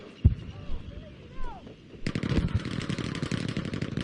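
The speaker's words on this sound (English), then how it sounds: "that was definitely a 900 round Thompson" Rapid-fire Thompson submachine gun with a 900-round drum, shot in a T8 Frontlines match, starts as a dense continuous burst after scattered single shots and whistling tones, loud and close.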